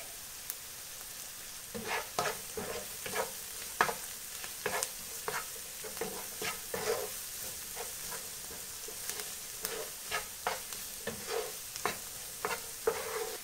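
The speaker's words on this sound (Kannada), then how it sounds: "ಆನಿಯನ್ ಜಾಸ್ತಿ ಬೇಯುದು ಬೇಡ, ನಮಗೆ ಸ್ವಲ್ಪ ಬಾಡಿ ಸಿಕ್ಕಿದ್ರೆ ಸಾಕು." Onions with salt frying in a pan for butter chicken, a low steady sizzle punctuated by regular, rhythmic stirring scrapes across the pan, fairly close and moderately loud.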